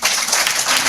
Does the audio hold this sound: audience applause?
yes